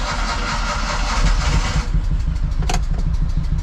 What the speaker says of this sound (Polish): Przekręcamy sobie zapłon.